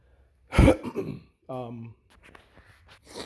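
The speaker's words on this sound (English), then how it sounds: "Sorry for clearing my throat" A person clears their throat with a harsh burst, followed by a short voiced hum and a few quieter mouth and breath noises.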